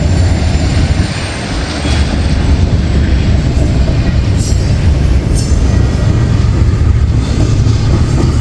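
An eastbound freight train rolls past at close range, a loud continuous roar of wheels and rumbling cars with occasional high metallic squeals.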